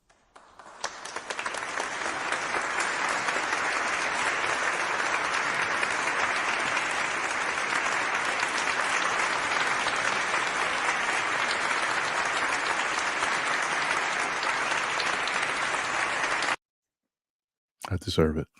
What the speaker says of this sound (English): Give myself a round of applause.